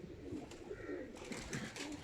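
Pigeons coo softly at a loft, a few low rolling calls at moderate distance with no talk over them.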